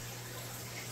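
Water runs steadily and close by during a water change on a 125-gallon aquarium, a constant broadband hiss with a low hum underneath, quiet and uninterrupted.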